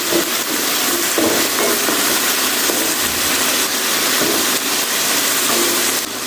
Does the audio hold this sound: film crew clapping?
no